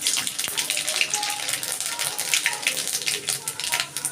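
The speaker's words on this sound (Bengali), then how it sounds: "সর্ষেটা ফুটে গেছে" Black mustard seeds sputter and crackle in hot mustard oil during tempering for a tangy hilsa fish dish, a dense, steady spitting sizzle close by with small irregular pops and no pause.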